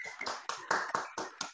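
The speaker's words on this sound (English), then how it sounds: "Just one round of applause for Mr." Short burst of audience applause closing a plenary lecture on digital sovereignty, quick uneven claps close together for under two seconds, fairly quiet.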